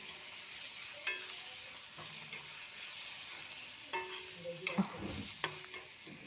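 Tomatoes sizzle steadily in a pan while a spoon stirs them, with a constant frying hiss and a few sharp scraping strokes toward the end.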